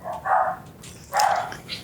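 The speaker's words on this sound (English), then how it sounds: "And the dogs have something to say." Dogs bark outdoors near a rural wildlife preserve, giving two loud, close barks about a second apart, with a fainter yip trailing after.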